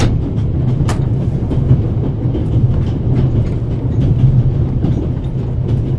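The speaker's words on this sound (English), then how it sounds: "This train began in Paris and ends in Istanbul as usual." Orient Express train running in The Raven video game, a steady loud rumble of wheels on rails with faint rhythmic clicks and rattles, continuous and with no voices.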